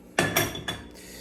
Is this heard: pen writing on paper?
no